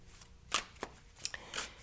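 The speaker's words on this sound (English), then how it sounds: "You're seeing that I'm shuffling" Tarot cards are shuffled in a few quick, soft riffling bursts, close and quiet, spaced unevenly across a brief stretch with near silence between.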